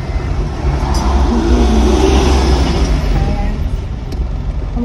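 A car moving along a road, a loud steady engine drone and road rumble mixed with wind noise close up, and a few faint voices murmuring beneath it.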